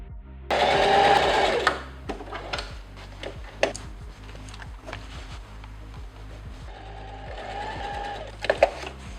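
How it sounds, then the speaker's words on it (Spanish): A sewing machine stitches trouser fabric during an upcycling project turning pants into a top, running in loud steady bursts: a long run at the start, brief pauses with small clicks, then another stitching run near the end. "Voy a coser aquí, luego voy a doblar y coser todo alrededor."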